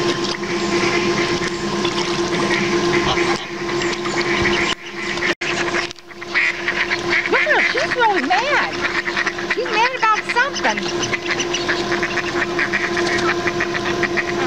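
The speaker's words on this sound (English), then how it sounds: "Look at that big mallard over there all by itself eating that pizza." A mallard duck on the water, eating pizza among feeding carp and bluegills, gives a few short quack calls midway through over a steady background hum and water noise, with people talking nearby.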